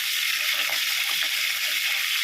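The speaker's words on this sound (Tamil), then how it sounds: "கருவேப்பிலை போட்டு பச்சை மிளகாய் 2 அது போட்டாச்சு. அது போட்டு நல்லா வதக்கணும்." Curry leaves, green chilies and fennel seeds frying in hot oil for a prawn and crab gravy, giving a steady, close hiss of sizzling with faint crackles throughout, no voices.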